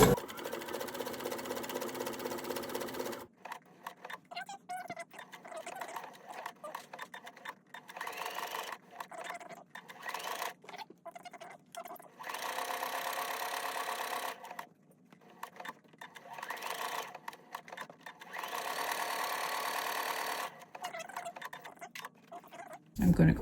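A sewing machine stitches a flower appliqué onto a quilt table topper, running in bursts of rapid rhythmic stitching separated by brief pauses, close and moderately loud, with a voice talking over parts of it.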